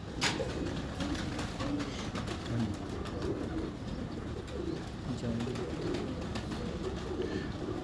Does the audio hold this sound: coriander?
no